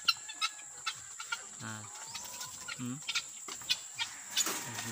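Guineafowl give short, scattered calls in a quiet yard, with sharp chirps and clucking notes spaced apart against faint insect buzzing.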